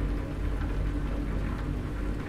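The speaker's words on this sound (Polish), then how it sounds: "Deszcz jak padał, tak pada." Rain in Euro Truck Simulator 2 pattering steadily on a truck cab, a continuous soft hiss over a deep engine-like rumble, even and fairly quiet throughout, with no voices.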